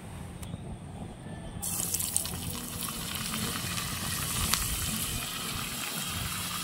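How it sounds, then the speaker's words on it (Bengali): Potatoes deep fry in oil in a miniature pan, a loud steady hiss that begins after a short quieter start and holds evenly, with faint bubbling. "ভালো করে ডিপ ফ্রাই করে দেবো।"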